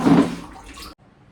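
Tap water gushes briefly into a bucket, a short loud splash that stops abruptly.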